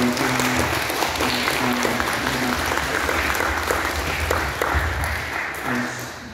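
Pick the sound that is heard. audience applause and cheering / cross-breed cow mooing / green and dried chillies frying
audience applause and cheering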